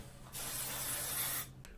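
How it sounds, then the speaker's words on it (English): Axe body spray hisses out of an aerosol can in one continuous, fairly quiet burst lasting about a second, heard up close and alone. "A little bit of body spray."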